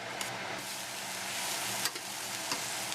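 Chopped cabbage and chicken stir-fry in a pan for a spicy Chinese chili garlic dish. A loud, constant sizzle carries a few brief scrapes of stirring, close up, with no voices.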